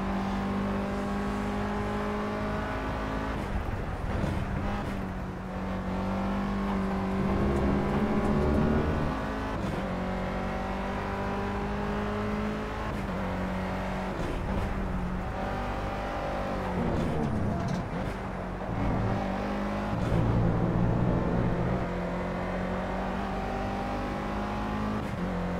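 Race car lapping a circuit, heard from a helmet camera: a steady, loud engine drone rising and falling through gear changes and corners for the whole stretch, with faint tire noise.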